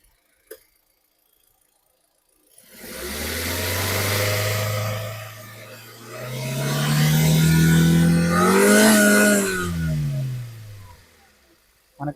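A 2017 Hyundai Grand i10 Sports petrol engine, heard up close, starts from near silence and rises into two sustained revs with a smooth mid-pitched hum. A short dip separates the revs, and the engine settles back down at the end.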